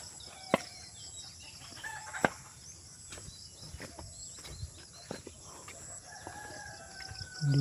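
Outdoor farmyard ambience with scattered hen clucks and a few distant rooster calls, faint sharp sounds now and then over steady background hiss.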